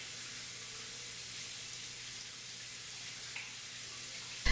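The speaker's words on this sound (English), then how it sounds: "Rinse with warm running water." Warm tap water runs steadily over hands at a sink, an even hiss close by that keeps going without a break and ends in a short loud knock.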